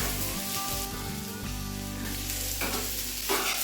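Ingredients frying in a pan with oil, a steady close sizzle and crackle throughout, with a low hum underneath and brief stirring noises.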